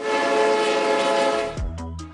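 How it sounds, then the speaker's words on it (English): A snow-clearing train on snow-covered tracks blares a loud, sustained horn chord that breaks off into a deep rumble and a few sharp knocks as it passes close by. "a snow-clearing train must pass through first"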